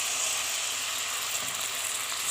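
Fried spice paste sizzling in hot oil after a splash of water, a dense, even hiss that stays loud and steady with no talking.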